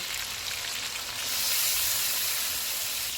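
Sizzling chicken in a karahi pan as half a cup of water goes in, a loud steady hiss of steam and frying that surges briefly midway, heard close with no talk.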